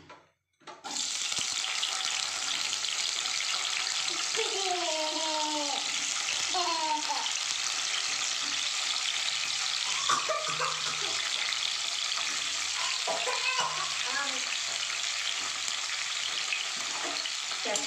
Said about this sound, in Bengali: এবার আমি এই তেলের মধ্যে ক্যাপসিকাম আর পেঁয়াজগুলো একটু হালকা সটে করে নেব